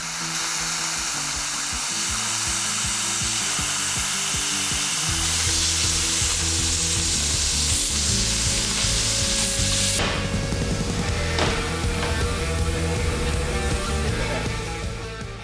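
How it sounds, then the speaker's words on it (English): A plasma cutter slices through a steel skid plate for a Toyota Tacoma bumper, giving a loud, steady hissing roar with crackling sizzle throughout, and a sharp brighter burst partway through as the arc shifts. "we're gonna take our plasma cutter and cut this little girl up"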